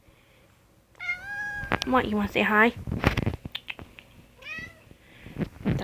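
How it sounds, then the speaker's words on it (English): A house cat meows indoors, several short, close, high-pitched meows interspersed with a woman's speech addressed to the cat. "Yes, I know, you want to be a nosy kitty cat."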